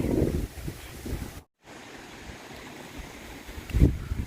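Wind buffets the microphone in loud gusts on a monsoon trek at Sinhagad fort, with a rushing outdoor roar between them and a brief cutout partway through.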